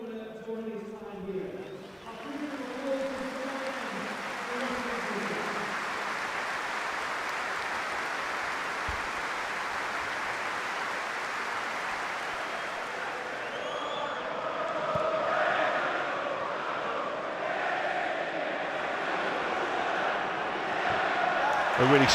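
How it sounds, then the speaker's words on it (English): A stadium crowd at Anfield applauds steadily in memory of Peter Cormack, a broad sustained wash of clapping that swells toward the end, with a commentator speaking briefly at the start. "a moment of applause"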